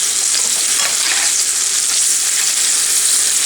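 Beets fry in a hot pan with cashews and butter, giving a loud, steady sizzle with light stirring scrapes throughout and no voices.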